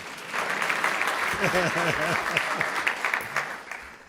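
An audience at a governor's address on education funding gives a round of steady clapping, with a man's speech carrying on over it.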